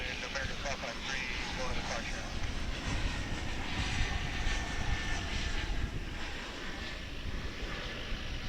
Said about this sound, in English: What you're looking at there is a Cessna 208B Super Cargo Master.